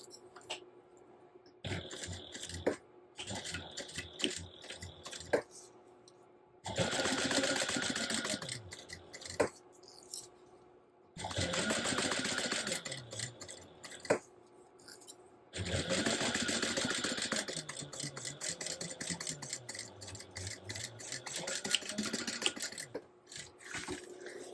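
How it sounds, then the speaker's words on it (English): Sewing machine stitching a crossbody bag seam at a 3/8 inch allowance, running in three sustained bursts of rapid mechanical chatter separated by pauses filled with handling clicks and fabric rustle. "we're going to sew this together with a 3/8 inch seam allowance"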